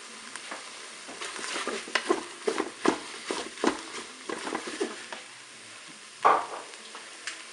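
Mushrooms being stirred and fried in a Cookeo multicooker for a shrimp curry rice, with a soft steady sizzle broken by repeated scraping stir strokes and one sharper knock near the end.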